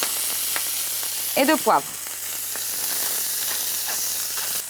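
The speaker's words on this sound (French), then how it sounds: "je saisis les onglets à feu vif" Beef skirt steaks sear in a hot pan over high heat, giving a steady loud sizzle throughout, while someone speaks briefly in French partway through.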